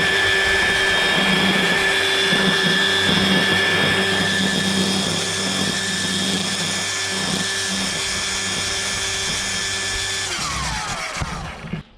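Electric weed eater running steadily with its stock trimmer line as it cuts grass, a loud close whine with a constant motor hum that winds down and stops near the end.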